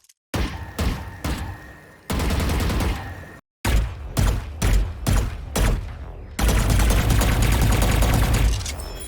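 Rapid gunfire from the Vandal rifle skin in the video game Valorant, loud punchy bursts of shots with brief pauses between volleys, then a sustained stream of automatic fire at the end, no voices.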